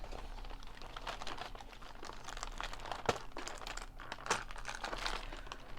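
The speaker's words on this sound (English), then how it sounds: "this becomes more and more difficult to actually pull the inks out of the plastic holders" Ink sample vials pulled from snug plastic holders, crinkling plastic and small crunching clicks close by, with two sharper snaps as pieces come free.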